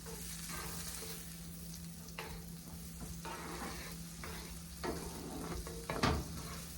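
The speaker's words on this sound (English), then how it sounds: "We're going to cook the celery. I'm going to make sure that this becomes lucid" Celery and garlic frying in a pan while a utensil stirs them: steady close sizzle under repeated scraping strokes, with a louder clatter near the end.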